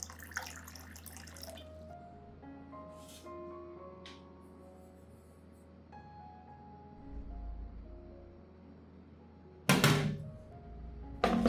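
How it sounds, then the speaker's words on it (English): Clean water is poured to dilute an orchid fertilizer solution, a soft running trickle with a few clinks and thuds of the container, quiet and close, ending in a brief louder splash. "I'll add 2 liters of clean water to dilute the solution"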